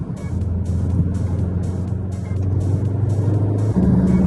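Cupra Formentor VZ in Sport mode heard from inside, its engine droning loud and steady as the car pulls hard, the pitch shifting near the end with constant road and wind noise.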